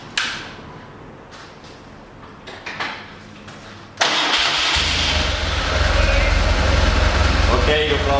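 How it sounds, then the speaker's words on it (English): A BMW R 1200 GS motorcycle engine cranks and catches at once, settling into a loud, steady idle that rumbles on close by after quiet handling noises. "Let's see if bike starts."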